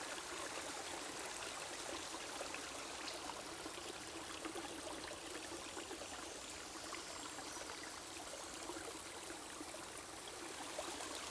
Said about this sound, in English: Speaking of the babbling brook,